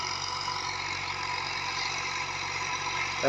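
A Massey Ferguson MF 350 tractor engine runs steadily nearby with a rotavator, a constant low rumble with a dense mechanical hum that never changes pace.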